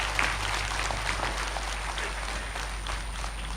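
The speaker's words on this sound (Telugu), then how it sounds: "ఆయన కోసం గట్టిగా చప్పట్లు కొడదాం" Steady applause from a seated audience at a meditation gathering, a dense, even wash of clapping sustained for several seconds at moderate distance with a low hum beneath it.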